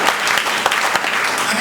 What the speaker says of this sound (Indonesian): Yang setuju berikan tepuk tangan yang mulia buat Tuhan.